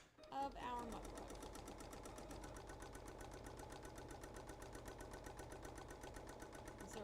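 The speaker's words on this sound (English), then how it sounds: "I'm going to go ahead and start the machine, and it is going to sew around the outside" An embroidery sewing machine stitches around the edge of a mug rug, running close and steady with a fast, even mechanical whir and rapid needle clatter from start to finish after a short click at the beginning.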